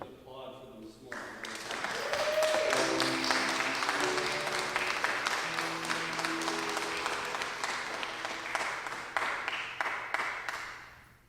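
A church congregation applauds during a live service, the clapping swelling in after a brief pause and then thinning out gradually, with some speech underneath.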